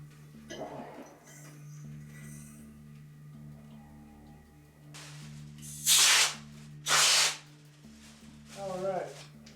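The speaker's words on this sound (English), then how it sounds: "first I'm gonna spray all the areas I haven't sprayed" A spray foam insulation gun fires two loud, short hissing bursts about a second apart, over a low background hum with brief quiet voice sounds nearby.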